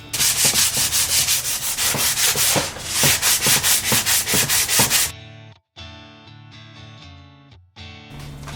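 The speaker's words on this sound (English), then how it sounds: "So what I'm gonna do is I'm gonna sand this by hand. So I'm gonna use really big grits" A Triumph Spitfire dashboard is hand sanded with coarse-grit sandpaper in quick, rhythmic rasping strokes for about five seconds, then background music takes over.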